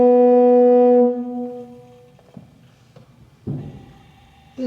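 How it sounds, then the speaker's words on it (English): A pipe organ diapason stop sounds one sustained, rich, harmonic-laden note for about a second, then decays into quiet room noise broken by a few soft knocks. "The principal sound of a pipe organ is called diapason."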